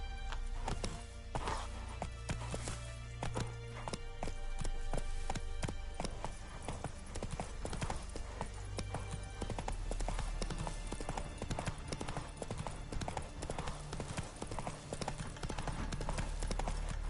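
A horse gallops in The Witcher 3, its hooves drumming in a fast, steady clip-clop that runs the whole stretch over continuous game ambience, with no talk.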